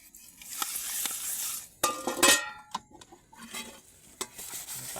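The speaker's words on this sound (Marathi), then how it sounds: "आता आम्ही भांडी घासतोय बघा" Dishes are scrubbed and rinsed outdoors at a night campsite, heard as close, uneven bursts of scouring and splashing broken by a few sharp clinks of pots and utensils.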